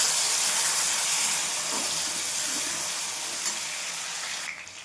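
Potato pieces sizzle in hot oil while sabudana khichdi is being made, a steady, loud, broad hiss that softens slightly toward the end, with no talk.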